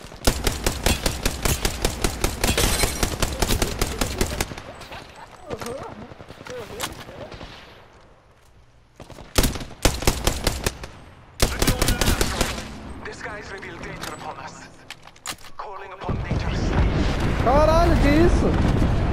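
Bursts of rapid gunfire in the video game Apex Legends crackle in loud volleys, with gaps between them, followed by a rumbling blast at the end.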